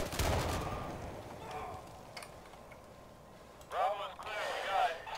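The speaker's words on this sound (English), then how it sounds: "explosions are going on over here" Explosions and gunfire in the tactical shooter Insurgency on the map Embassy, a heavy blast followed by scattered distant shots and rumbling, with voices talking over it.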